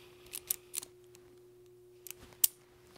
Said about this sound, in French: on prend notre pince, on s'en vient ici, on coupe